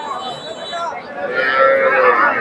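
A Friesian bull lets out a low, drawn-out moo close by, rising in the second half amid background noise of a cattle market in Bogura.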